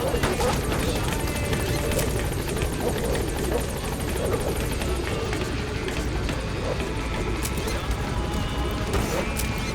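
Helicopter Pequod hovering in Metal Gear Solid 5, a continuous rotor drone heard close and steady, with horse hoofbeats and occasional sharp game sounds layered over it.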